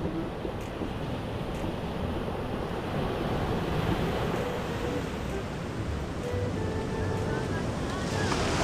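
Sea waves with steady broadband surf roar and wind buffeting the microphone, continuous and close, with faint voices underneath.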